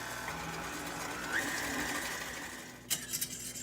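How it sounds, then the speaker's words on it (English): Electric mixer beating butter and sugar for walnut cake, a steady close whirring hum that runs throughout, ending with a few soft clatters. "put it back in the mixer and mix it until it's light and fluffy"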